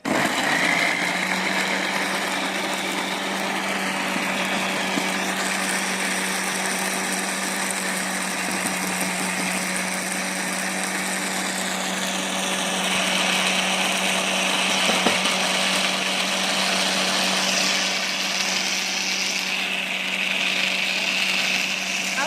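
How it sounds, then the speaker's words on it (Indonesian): An electric blender grinds a spice paste with coriander for a gulai dish in a long, steady whine that shifts in pitch a few times as the mixture breaks down. "Bumbunya banyak maka blendernya agak lama."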